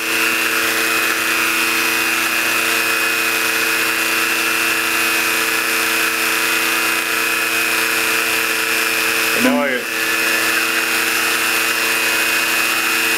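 Lathe-mounted Dremel tool with a cutting wheel spinning at high speed while cutting small rods, a loud steady high-pitched whine throughout with a brief dip in pitch near the end as the wheel bites into the rod.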